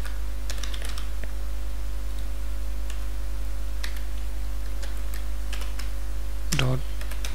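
Someone types code on a computer keyboard, scattered clicks and short bursts of keystrokes over a steady electrical hum, with a brief sharper rattle near the end.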